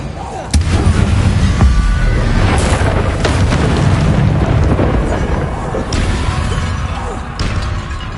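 A Confringo spell blasts in Hogwarts Legacy on PS5, loud booming explosions and crackling impacts that roll continuously under dense game noise.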